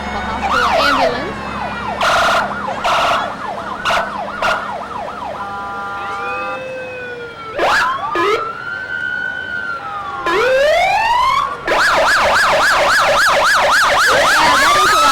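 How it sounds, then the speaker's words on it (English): Ambulance sirens wail and yelp loudly nearby during a parade in Waverly, Iowa, switching between rising sweeps and rapid warbling tones, with horn blasts mixed in. "we hear the sirens from the Waverly Municipal Hospital ambulance"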